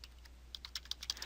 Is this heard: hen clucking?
no